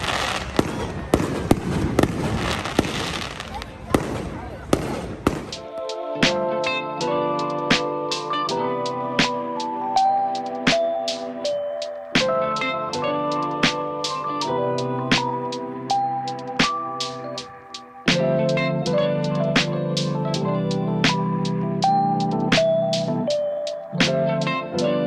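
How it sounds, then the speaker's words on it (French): Distant fireworks at Old Orchard Beach, Maine pop and crackle in repeated sharp bursts while music with sustained tones plays loudly over them. "On attend les feux d'artifice."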